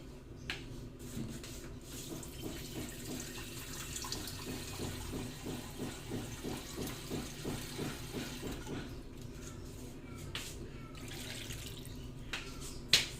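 Water flows steadily from a tap into a cooking pot as it is filled for boiling, a continuous splashing pour with a rhythmic pulsing texture that runs near and moderately loud for most of the stretch.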